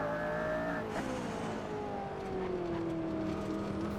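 Hypercar in a racing video game oversteering on a hot lap, a steady loud engine drone with gliding pitch and tire scrub as the car slides over the curb and exit, continuous and close.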